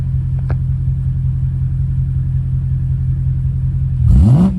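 A V8 car engine idles with a steady, loud low rumble, then near the end is blipped once, its pitch sweeping sharply up and back down.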